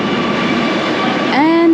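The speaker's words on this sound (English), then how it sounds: "And there is the train already." A train pulling into a clean elevated station in Kochi, India, a loud steady rumble that rises into a sustained tonal whine near the end, heard close.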